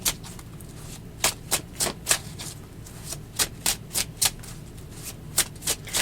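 A deck of tarot cards being shuffled by hand, with about fifteen crisp riffling bursts at a steady, slightly uneven pace, close and fairly quiet, with no talk.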